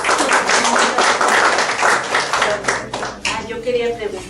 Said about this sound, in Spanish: Vamos a darle un aplauso a la doctora.